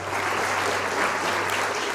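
A university career program audience breaks into loud, sustained applause, a dense wash of clapping filling the hall for the whole stretch with no pause.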